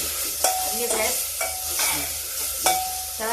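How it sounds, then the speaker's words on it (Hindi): Soaked chana dal roasting and being stirred in a pressure cooker on a gas stove, with a close steady sizzle and repeated sharp scrapes of a spoon against the metal. "थोड़ा दाल भून जाती है"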